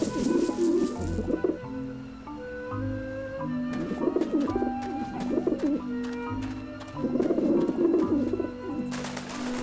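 Pigeons in the video game Grim Fandango coo in repeated soft, throaty phrases, several overlapping calls rising and falling steadily through the scene with short pauses between bursts.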